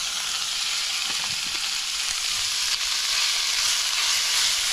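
Steak frying on a hot surface outdoors in the rain for a philly cheesesteak, a steady broad hiss of sizzling with a few faint clinks, continuous and moderately loud.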